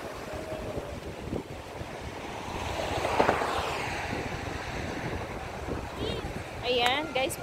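Strong wind gusts buffet the microphone outdoors at night, a constant rushing roar with a swell midway, while people talk faintly underneath.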